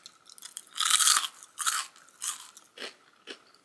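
Freshly made, still-warm homemade croutons are bitten and chewed up close, giving several loud, dry crunches in bursts that fade to softer chewing.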